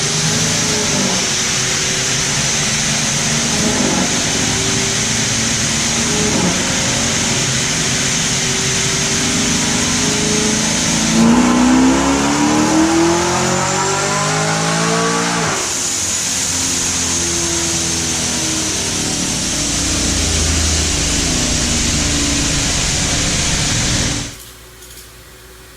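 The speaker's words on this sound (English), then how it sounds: "make another run on the dyno with it" A supercharged Chevrolet Camaro ZL1 with a ProCharger makes a loud, sustained dyno pull, its engine roaring steadily with a rising whine through the middle before cutting off abruptly near the end.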